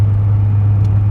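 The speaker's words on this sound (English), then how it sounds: "the truck is loud, okay? 5-inch exhaust, it's aggressive" A deleted LML diesel pickup truck with a loud 5-inch exhaust rumbles steadily and close, giving a deep, constant drone with no voices.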